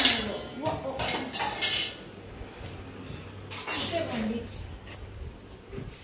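Dishes and utensils clatter in a home kitchen, with two bursts of clinking metal and ceramic knocks and scattered lighter taps in between, while people talk nearby.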